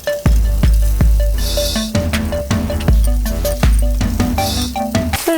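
Meatballs searing in a hot pan, a loud continuous sizzle broken by repeated sharp clinks and scrapes of a utensil against the pan, close up, with no voices.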